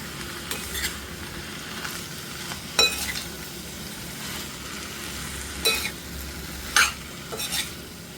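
Bitter gourd curry stirred in a pan, with a soft steady sizzle broken by a few sharp spatula scrapes and clinks against the metal, close and fairly quiet.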